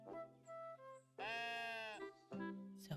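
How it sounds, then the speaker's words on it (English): Sheep bleating in a video game, a few close, clear bleats with a long wavering one in the middle, separated by short gaps and with no talk over them. "Oh, hello, little sheep."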